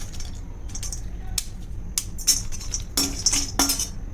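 Cinnamon sticks are sautéed with turmeric in a pan over medium-high heat for Malvani masala, heard as scattered sharp metallic clinks and scrapes of a utensil against the pan over a faint background hiss.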